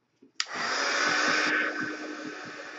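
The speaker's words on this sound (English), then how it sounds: "Now we're going to heat gun this one." A heat gun on a mixed-media art piece, switched on with a click into a steady loud whooshing blow that eases to a lower setting after a second.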